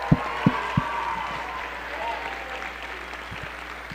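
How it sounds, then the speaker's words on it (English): A crowd applauds steadily at moderate volume, a dense patter of clapping with a few sharper nearby claps at the start. "So give them a big round of applause."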